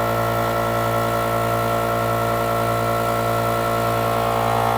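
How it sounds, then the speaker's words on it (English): An air compressor runs steadily and loudly in a mold-making workshop, a constant mechanical drone with a low hum that stays even and unbroken throughout. "compressor's on, as you can clearly hear"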